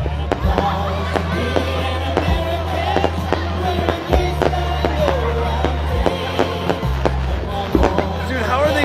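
Fireworks fired from parachutes by paratroopers at an Independence Day show crackle and pop in repeated sharp bursts over a steady low rumble, with people talking throughout.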